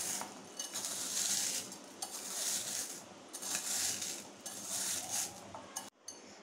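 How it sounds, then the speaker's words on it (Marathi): Fried edible gum (gond) is mashed in a pan with a potato masher, giving steady scraping, crunching and clinking metal sounds that run nearly without a break and are heard close up. "मी याला पोटॅटो मॅशरनी याला बारीक करून घेते"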